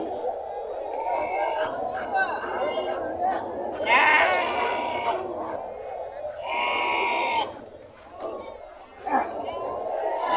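Tagaru sheep bleat repeatedly at the Kerur sheep and goat market, a busy outdoor livestock market. Several loud, drawn-out calls rise above steady crowd chatter and nearby voices.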